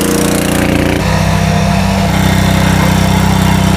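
A power tiller engine driving a water pump, a loud, close, continuous mechanical drone with a steady rapid pulse whose pitch shifts slightly about a second in, then holds steady without talk.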